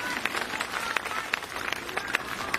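Audience clapping at a public event in Paragpur, Himachal Pradesh, where the Chief Minister inaugurated development works: steady, dense applause from a crowd throughout, with scattered sharper claps standing out.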